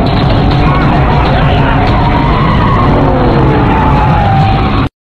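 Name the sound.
car speeding off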